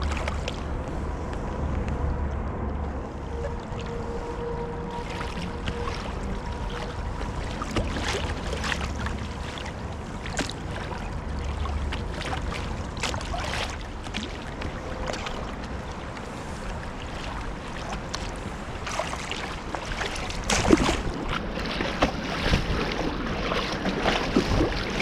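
Kayak running Big Walnut Creek rapids and narrows, a continuous rushing of water and wind buffeting against the boat with scattered splashes and paddle knocks, steady and close throughout.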